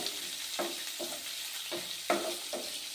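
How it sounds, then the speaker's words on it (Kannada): Ginger garlic paste hits frying onions in a pan for pepper chitranna, giving a steady close sizzle broken by rhythmic scraping stirs about every half second. "ನಾವೀಗ ಶುಂಠಿ ಬೆಳ್ಳುಳ್ಳಿ ಪೇಸ್ಟ್ ಹಾಕೋಣ"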